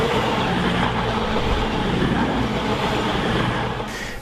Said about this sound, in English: two trains passing one another as they move toward and away from Darlington station